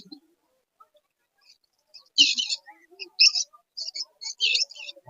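Small birds at a Bengali pigeon and bird market, sold by dealers, give a series of short bright chirps in bursts from near range. A few low voices sit in the background.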